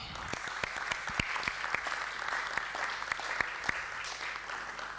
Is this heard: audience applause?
yes